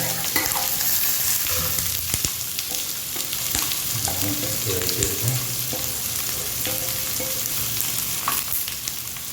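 Onion and cumin frying in a pan for a tangy lentil curry, a continuous close sizzle with stirring clatter and occasional spoon knocks against the pan, no voices.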